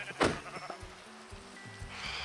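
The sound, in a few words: sheep bleating in a video game (Minecraft)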